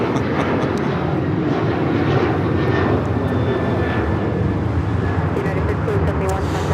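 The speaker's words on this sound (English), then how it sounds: "1571 taking off to Houston Intercontinental on the 737-900ER." A United Airlines Boeing 737-900ER departs Los Angeles International Airport, its jet engines giving a constant rumbling roar at moderate distance while people chat over the noise.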